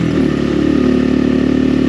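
An XPro Templar 250 X dirt bike engine holds a loud, steady mid-pitched drone in third gear while climbing a hill, close and continuous with a faint clatter.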